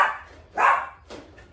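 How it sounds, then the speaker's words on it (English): A guard dog barks twice, close and fairly loud, with a short gap between the two barks and no talking over them. "Guard dog."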